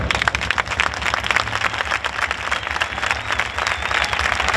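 Crowd of Betis football fans applauding, a steady dense wash of clapping from many hands at moderate distance, continuing for several seconds.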